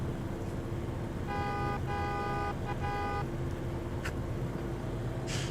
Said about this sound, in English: I don't know who is honking